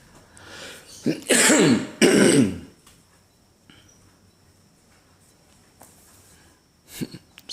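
A couple of harsh throat clearings and a cough close by, then near silence with a faint short hack at the end.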